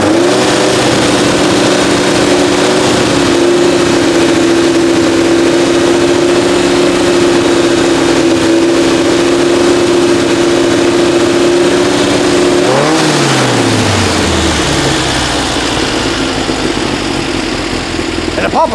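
A 1966 VW Beetle with a 1776cc engine runs loud and close at a steady high idle for a long stretch, then its pitch drops away and it settles into a lower, rougher rumble.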